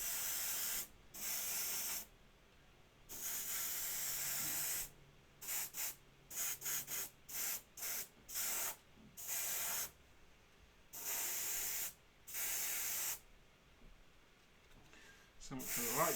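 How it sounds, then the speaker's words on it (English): A Harder & Steenbeck Revolution CR airbrush sprays AK Worn Effect in repeated hissing bursts, some long and some short, close to the microphone and stopping and starting in quick succession. "Just going to give it a light spray."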